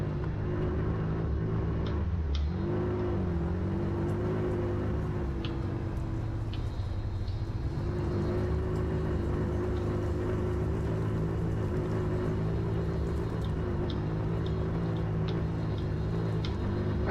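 A vehicle drives in Farming Simulator on the Flusstal XXL map: a steady, low engine drone and rumble holds at an even level throughout, with faint ticking and clicks over it.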